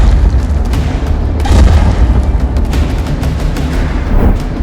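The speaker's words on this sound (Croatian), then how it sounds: "jako čujem pucnjavu tamo" Video game gunfire and explosions heard as a continuous barrage of deep booms and sharp bursts, loud and dense throughout with no talking.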